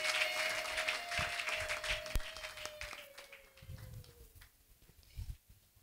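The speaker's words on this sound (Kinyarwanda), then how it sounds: "Amashyi niyo araye Imana, reka twongere tuyakome dushimire Imana." A church congregation claps together in praise during a worship service, with steady sustained applause that gradually thins and fades, and a few scattered louder claps near the end.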